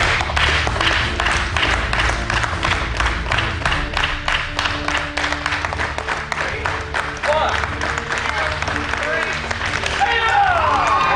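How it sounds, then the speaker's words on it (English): Audience applause breaks out after a board break at a jujitsu black belt test, dense and steady clapping filling the room for several seconds while voices talk over it. "Very good job. Let's clap together."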